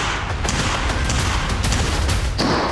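Rapid bursts of machine gun fire from a Russian robot dog mounted with a weapon, loud dense shots in quick irregular clusters with sharp cracks standing out across the whole short stretch.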